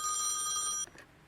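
A telephone bell rings in a single steady electric trill for nearly a second, then cuts off abruptly, leaving faint room noise.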